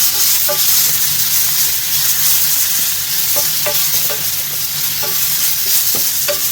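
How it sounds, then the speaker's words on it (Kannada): Coarsely ground spice mix fries in oil over low heat, stirred steadily: a loud, dense sizzle with repeated scraping and tapping of the spoon against the pan, no talking. "ಇದನ್ನು ಈಗ ಹಸಿ ಸ್ಮೆಲ್ ಹೋಗುವವರೆಗೆ ಈ ಎಣ್ಣೆಯಲ್ಲಿ ಫ್ರೈ ಮಾಡಬೇಕು."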